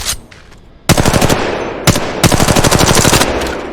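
Automatic rifle fire in Apex Legends Mobile, a loud, rapid burst of gunshots after a quieter start, then a short pause and a second sustained volley, with no speech.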